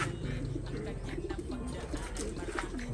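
Pigeons cooing repeatedly around a loft trapdoor, soft throaty calls close by over a steady low background rumble.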